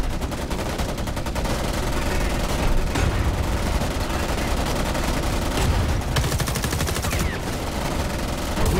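Dense, loud M16 rifle gunfire in the video game Homefront: The Revolution, rapid bursts of shots packed close together with booming blasts mixed in, running steadily throughout with no pause.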